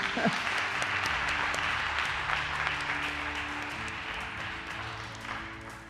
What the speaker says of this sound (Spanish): un doble aplauso para Marta.